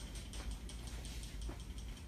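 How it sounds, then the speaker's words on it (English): A Jeunesse NV airbrush mist spray can rattles steadily as it is shaken, a continuous rapid clicking of the ball inside, close and fairly soft. "Once again, shake the can."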